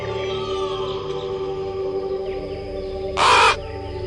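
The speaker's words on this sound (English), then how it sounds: "Cawing from high in the treetops, a clever blackbird watches for food and danger alike." A blackbird calls from high in the treetops: one loud, harsh caw near the end, standing out over a steady droning background.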